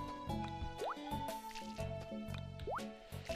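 Crops watered with a watering can in the Harvest Moon farming game: repeated close, squishy splashing drips in short bursts, mixed with game music tones and brief pitched blips.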